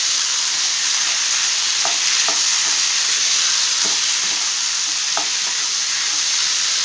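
Raw banana pieces fry in a pan with a loud, unbroken sizzle, punctuated by a few brief clinks and scrapes of a utensil, up close and without any talking.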